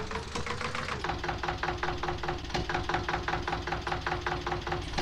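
Eicher 241 tractor engine with a fan-cooled design in Farming Simulator 19, running with a steady, even knocking pulse and a constant low hum, loud and close without talk.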